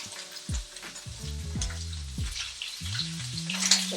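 Jackfruit and vegetables sear in a very hot pan, a close, steady sizzle and crackle with scraping stirs and clinks of a utensil against the pan, and no voices.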